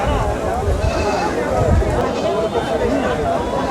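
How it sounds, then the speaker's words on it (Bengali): A black male Jamunapari goat bleats loudly and close at a busy livestock market, its cries rising over dense crowd murmur and voices that run through the whole moment. "আমাদের সামনে আরেকটি কালো রঙের পাঠাছল রয়েছে"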